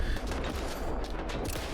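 Rapid gunfire from a firefight in the video game S.T.A.L.K.E.R. 2, set in the Red Forest: a dense, continuous fusillade of overlapping shots that stays loud and close for the whole stretch, with no talking.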